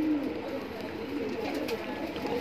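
Soft, low coos from Allahabadi pigeons in a loft repeat steadily close by over a faint background hum, with no speech.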